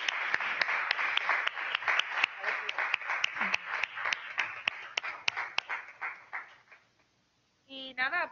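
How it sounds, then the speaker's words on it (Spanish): Applause for Sandra at a PhD data science seminar: a small audience claps in a quick uneven patter that thins out and fades, followed by a short burst of talking. "vamos a darle otro aplauso a Sandra"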